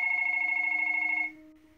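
An office telephone rings with a fast electronic trilling bell, fairly loud and steady for over a second before cutting off, leaving a faint hum.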